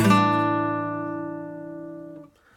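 A single acoustic guitar chord from a song, strummed once and left to ring with a smooth, slow decay for about two seconds before it is cut off. No voices.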